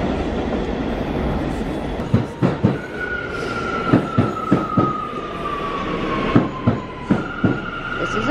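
A New York subway A train rumbles along with rhythmic clickety-clack of wheels over rail joints and a long steady whine, loud and close throughout.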